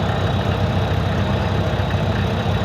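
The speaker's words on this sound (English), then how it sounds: "Okay, so I got it running on the gas." A gas engine powering a 1945 antique refrigeration reefer cooler runs at a steady idle, a continuous loud low rumble with a faint knocking pulse and no voices.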